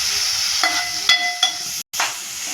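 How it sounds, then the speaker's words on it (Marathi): Chopped tomato frying in hot oil for a vegetable dish, a steady broadband sizzle with a few light clinks of a utensil against the pan and a brief dropout near the end. "टोमॅटो चिरून घेतला होता, तो पण टाकतोय मी भाजीसाठी। तेलामध्ये व्यवस्थित ह्याला भाजून घेऊ।"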